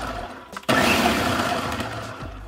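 Onions being chopped fine in a kitchen appliance for a creamy tuna salad: a short dull knock, then a loud whirring motor burst that churns for about two seconds and cuts off, close and alone.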